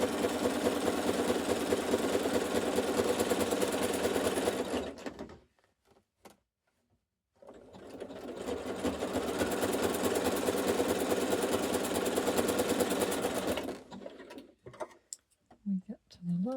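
A sewing machine sews a zigzag stitch on quilt binding in two long runs of rapid, even mechanical chatter, close and steady. A quiet pause separates the runs, and soft handling knocks and faint speech come at the end.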